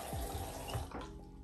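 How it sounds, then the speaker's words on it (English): Water from a bathroom sink tap is splashed onto a face, a short burst of running water with a few wet slaps and splashes, close and moderately loud. "just splash a little water on my face."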